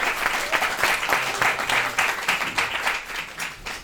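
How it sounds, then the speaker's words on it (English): A studio audience gives a round of applause at a charity Taskmaster episode, brisk dense clapping filling the whole stretch. "a round of applause to everyone for some amazing presents"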